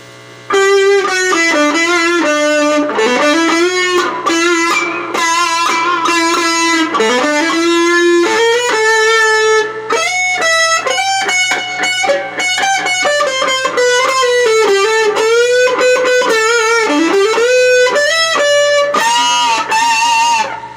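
An electric guitar plays a lead line through a Vox Satchurator distortion pedal with the tone knob near one o'clock, loud sustained overdriven notes bending and sliding in continuous phrases with no talking.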